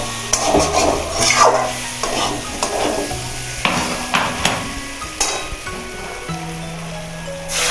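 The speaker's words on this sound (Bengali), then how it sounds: "মশলাটা এবার ভালো করে কষিয়ে নেব।" Masala with Kashmiri chili powder sautéed in a pan for raw banana kofta curry, a loud close sizzle broken by repeated scraping and knocking of a spoon against the pan, no voices.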